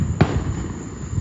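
A single sharp firework bang goes off at a Fourth of July display, followed by a faint crackling tail over steady outdoor background noise.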